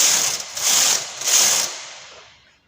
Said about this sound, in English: you just continue knitting, and the needles will automatically be selected by the punch